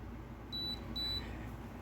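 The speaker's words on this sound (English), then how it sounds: "Oh, stop beeping." A teeth whitening kit device gives two short, high electronic beeps in quick succession, faint and close against a quiet room background.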